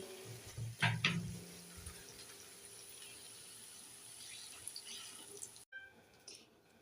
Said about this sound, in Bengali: এবার দিয়ে দেব উষ্ণ উষ্ণ গরম জল